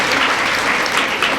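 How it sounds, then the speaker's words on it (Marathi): A crowd at a jewellery shop's lucky-draw event in Pandharpur bursts into loud, dense clapping that fills the whole stretch evenly and close. "सर्वांनी जोरात टाळ्या वाजवा"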